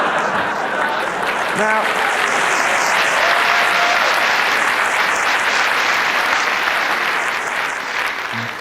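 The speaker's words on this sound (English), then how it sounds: "that applause was for me" Loud, dense applause from a packed live comedy show audience, continuous and full for several seconds with a brief spoken word near the start.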